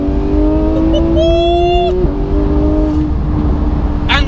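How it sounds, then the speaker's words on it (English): A Porsche 991 GT3 with a Sharkworks exhaust revs loudly close by, its engine note rising sharply, dropping, then climbing again in a second shorter rev, with a brief high squeal at the end. "And what it's like living with a Sharkworks exhaust."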